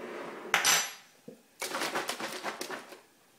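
A spoon clinks and taps against a dish while a single-serve healthy cookie is made, one sharp clink followed by a busy run of light scraping and tapping, close and fairly quiet with no talk.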